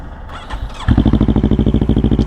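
A motorcycle engine starts and settles into a loud, close idle through its exhaust pipe. The idle carries a fast, even, pulsing tick that sounds like a cricket.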